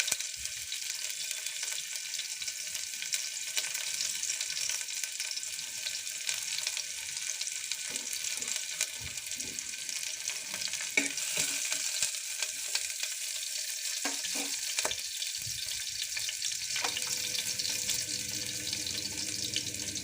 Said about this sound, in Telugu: అది కొంచెం వేగాక ఉల్లిపాయలు వేసుకోవాలి ఉల్లి తరుగు సన్నగా తరిగిన ఉల్లి తరుగు